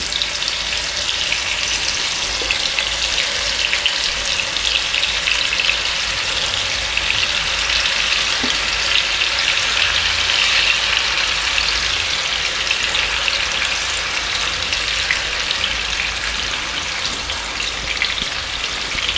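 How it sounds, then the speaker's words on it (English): Fish frying in a pan for a Bihari-style mustard and tomato curry, a loud, dense, unbroken crackling sizzle close up that stays constant throughout, with no speech. "I'm going to fry the fish roughly 2 minutes aside"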